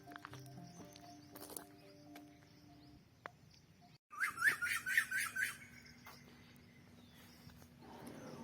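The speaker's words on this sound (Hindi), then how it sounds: "ये परिंदों का चहचहाना और नेचर से इतने करीब होना" Birds chirp in a burst of quick, bright, repeated notes near the Margalla Hills outside a university, fairly close and prominent over a low outdoor background hum.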